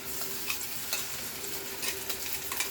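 Onion, garlic and chili masala with mustard sautés in a pan, a continuous close sizzle broken by repeated scraping stirs of a spatula at an uneven rhythm, with no voices.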